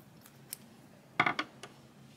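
Scissors snip a yarn tail on a chunky alpaca crochet piece, giving a brief cluster of two or three crisp close cuts against a quiet background.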